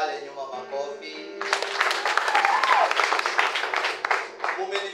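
A church congregation breaks into loud, steady applause that swells and continues, heard close with a voice talking over it at first.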